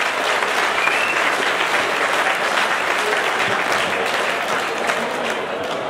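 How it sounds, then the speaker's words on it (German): A large crowd at the 2012 Viehscheid cattle festival in Wertach applauds warmly and evenly, a dense, unbroken wash of clapping lasting the whole stretch. "Herzlichen Applaus."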